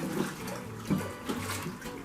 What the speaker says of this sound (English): Now I'm going to fill it full of water